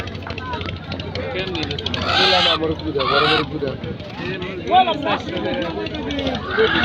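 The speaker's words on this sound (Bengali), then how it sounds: "এই দেখেন হাঁস মুরগি বিক্রি করছে এখানে।" Loud honking and squawking of ducks and chickens amid busy market chatter, with several harsh calls rising above the steady crowd noise.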